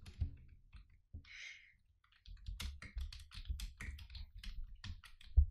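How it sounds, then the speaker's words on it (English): Clicking keystrokes on a computer keyboard, a close, brisk run of irregular taps with a brief pause near the start before steady typing resumes. "So I'm going to start typing in the information."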